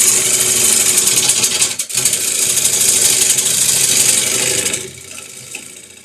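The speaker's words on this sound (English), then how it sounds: "when you're roughing like this, I'm taking this from a oddly shaped log to round" A lathe tool roughs an oddly shaped log down to round, producing a loud, continuous close-up cutting roar with a brief dip partway through before it drops away near the end.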